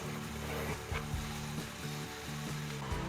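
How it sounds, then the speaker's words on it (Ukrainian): Button mushrooms and onion sizzle steadily in about 30 grams of hot oil, a soft continuous frying hiss with occasional stirring sounds. "Викладаємо шампіньйони з цибулькою і смажимо хвилин 5."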